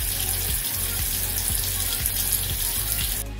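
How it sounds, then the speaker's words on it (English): Cold tap water runs steadily into a sink while hair is wetted little by little from cupped palms, with a constant close splashing rush and faint rhythmic low knocks, cutting off near the end. "Get the hair wet little by little with cold water from the palms of my hands"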